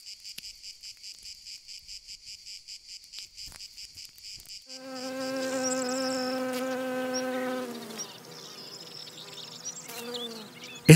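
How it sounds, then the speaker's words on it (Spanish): A bee caught in a tiger beetle's jaws beside a puddle gives a strained, loud, close-up buzz. Before it, a rhythmic insect chirping pulses for several seconds. "Esta abeja ha caído en las feroces mandíbulas de la cicindela mientras saciaba su sed en un charco próximo"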